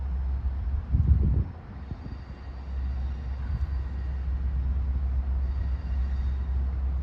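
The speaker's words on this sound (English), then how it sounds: "Greenport Scoot is coming in to the station in the background." A Long Island Rail Road train rolls into Ronkonkoma station from the yard, heard as a steady low rumble and hum in the background with a brief louder thump early on and no talk.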